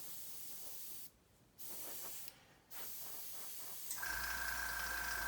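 Two bursts of aerosol paint spray hissing close by onto bombs for a scale model aircraft, each about a second long with short pauses, then a steady hum and a high tone join in.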